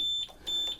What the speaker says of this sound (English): oh, that's the alarm going back on again.